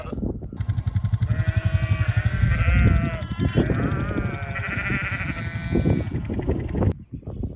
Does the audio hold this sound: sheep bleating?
yes